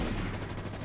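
A submachine gun fires in the sci-fi shooter DUST 514. The bursts come rapidly and continuously, fairly faint and muddy under a busy battlefield background.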